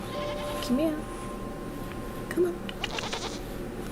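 A goat bleats twice, short wavering calls close by, under a person talking in an outdoor setting with steady background noise.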